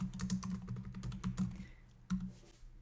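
Fingers type on a computer keyboard, close and quick, a busy run of light clicking keystrokes that pauses briefly and then resumes with a few more taps.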